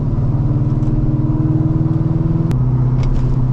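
A loud cammed Chevrolet Corvette C5 V8 rumbles close by with a choppy, lopey idle pulse, then drops to a slightly lower steady throb partway through, heard alone without talk.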